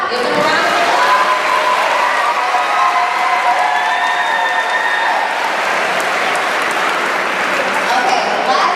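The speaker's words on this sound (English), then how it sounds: "Give them a round of applause." A crowd at a middle school promotion ceremony claps loudly and steadily, with scattered cheers and voices mingled into the continuous applause.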